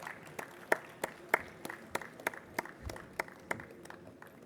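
Scattered, sparse clapping from a conference audience welcoming a company team to the stage, individual sharp claps spread unevenly rather than a full roar, fairly close and moderate in volume.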